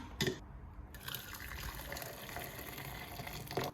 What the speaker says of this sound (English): add some boiling water to that